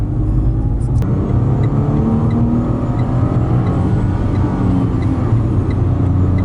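A loud Renault Clio 0.9 TCe engine roars and revs continuously, a strong, rumbling drone that holds steady for several seconds with no other sounds.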